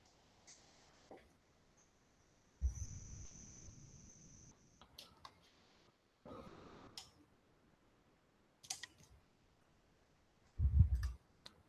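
Computer mouse clicking: several crisp, close clicks in scattered bursts, with some quick double clicks and a fuller rustle of handling near the end, over near silence.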